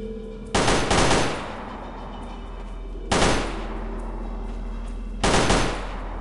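Gunfire in the Delta Force: Black Hawk Down video game: three loud, separate bursts of automatic fire, each ringing and decaying over a steady low background hum, with no talking.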